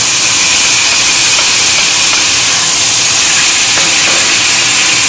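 Finely chopped tomatoes fry in a hot pan for macaroni, a loud, dense, steady sizzle and hiss that fills the whole moment without letting up.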